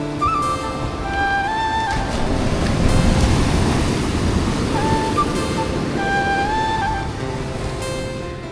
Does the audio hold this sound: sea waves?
yes